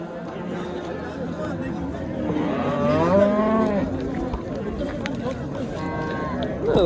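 Cattle at a Friday livestock bazaar in Pastdargom, Samarkand, give a long, drawn-out moo near the middle, heard over constant crowd chatter and people talking close by.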